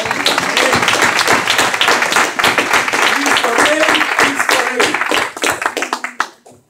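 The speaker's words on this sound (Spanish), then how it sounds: "Le damos un aplauso al que vive" A church congregation applauds at a Spanish-language worship service, claps and cheers filling the room steadily for about five seconds before thinning into scattered claps.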